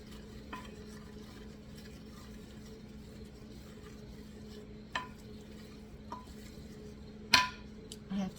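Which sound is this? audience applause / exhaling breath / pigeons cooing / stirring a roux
stirring a roux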